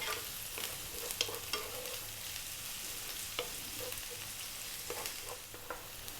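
Onion and a tablespoon of garlic sizzle steadily in a pan over high heat, a continuous soft frying hiss with occasional stirring scrapes and light clicks, no talking.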